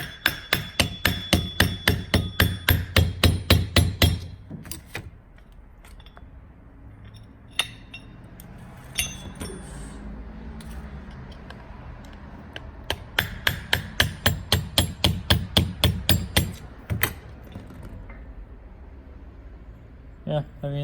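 A hammer taps a turbo compressor wheel on a Volvo 850 to drive it loose, with sharp metallic strikes in rapid rhythmic bursts, close and loud, separated by quieter stretches with clinks and occasional voices.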